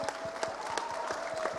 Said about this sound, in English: Can we please have a big round of applause for Sanjith?